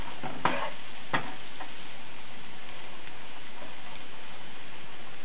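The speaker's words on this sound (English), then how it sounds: "start frying it up in your coconut oil" Vegan bean sausage sizzles steadily in hot coconut oil in a pan, a soft continuous crackle, with a couple of sharp clicks of a utensil against the pan.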